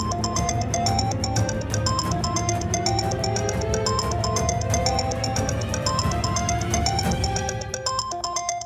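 A phone's melodic ringtone plays continuously and fairly loud, repeating its tune for several seconds in an Indian television drama scene, with no talking over it.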